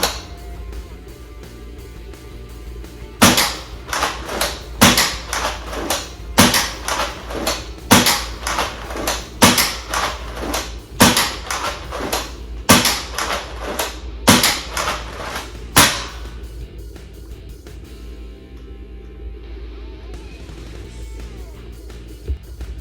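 A Nerf Ultra Three blaster fires Ultra AccuStrike darts in a rapid string of about a dozen sharp, loud shots spaced roughly a second apart, each a crisp snapping burst, before the firing stops and quieter handling noise remains.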